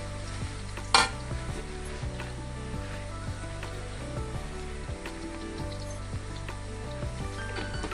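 Garlic frying in hot oil with spices such as asafoetida, stirred in a pan while making a dried-shrimp chivda snack; a steady sizzle runs throughout, with repeated scraping stirs and a sharp clatter near the start.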